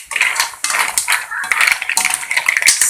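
A metal spoon clinks and scrapes against a bowl while stirring a sugared mixture, quick irregular taps and rattles repeating close up.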